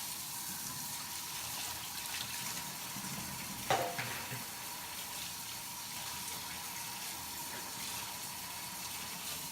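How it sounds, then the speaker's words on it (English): Water runs steadily from a tap into a sink, a constant hiss with a short clunk partway through, no voices. "You want to turn the water down a little bit so it's not so hot."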